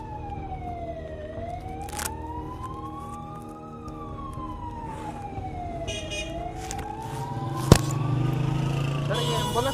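An ambulance's wailing siren sweeps up and down steadily, fairly close and loud, over traffic rumble and background talk, with a sharp click near the end.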